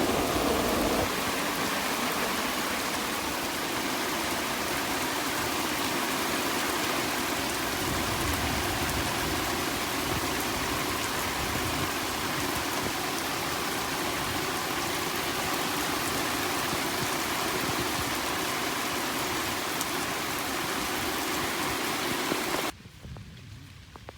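Heavy rain pours down steadily in a dense, constant hiss that continues for over twenty seconds, then cuts off abruptly near the end.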